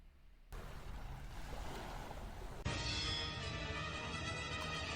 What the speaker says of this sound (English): the sound of waves echoed.